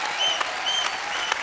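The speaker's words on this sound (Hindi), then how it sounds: "ताली बजाओ, क्या बात है?" Brief burst of studio audience applause on a Hindi comedy show, dense and steady clapping from a crowd with a faint electronic tone sounding over it.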